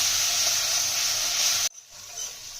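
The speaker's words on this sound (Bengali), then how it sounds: "যে মশলাটা গুলে রেখেছিলাম ওটা দিয়ে দিলাম ভালোভাবে মশলাটা কষিয়ে নিই" Spice paste for koi fish curry sizzles loudly while being sautéed in oil, a dense steady hiss that stops abruptly partway through, leaving quiet room noise.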